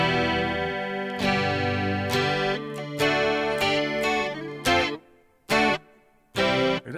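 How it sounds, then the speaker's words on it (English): Electric guitar played through a BOSS ME-80 multi-effects pedal with reverb engaged, a run of plucked notes and chords ringing out and decaying into a wash, with short pauses between bursts near the end; no talking. "That reverb it's really, really good."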